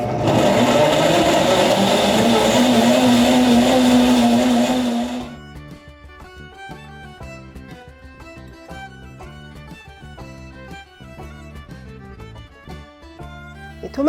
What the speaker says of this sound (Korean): 잘 갈릴 수 있게끔 물을 100ml 정도 넣어서